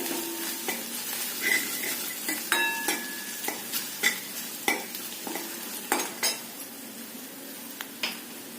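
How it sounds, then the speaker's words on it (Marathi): Steady sizzle of a tempering of crushed garlic and ginger frying in a pan, broken by a series of sharp metallic clinks and scrapes as a utensil stirs, with no voices. "फोडणी छान परतून घ्यायचं"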